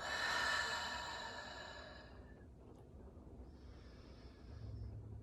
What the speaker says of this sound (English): Take a deep breath in through the nose and out of the mouth.